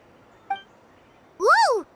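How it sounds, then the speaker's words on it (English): A cuckoo soar, a high, fast-flying bird creature in the Genshin Impact video game, gives one clear swooping chirp that rises and falls, preceded by a soft short click, close and alone. "Oh, that's a cuckoo soar. They fly high and fast, and they're always full of energy."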